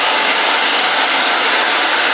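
A hair dryer drying hair blows with a steady, loud whooshing roar, close by and unbroken. It runs cool even on its hottest setting.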